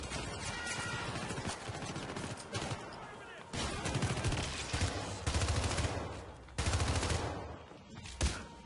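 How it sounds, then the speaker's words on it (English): Rapid bursts of gunfire in the shooter game Syndicate, loud overlapping volleys in clustered salvos with short lulls between them, mixed with game noise and occasional voices. "Whoa, stop shooting me. Who's shooting me?"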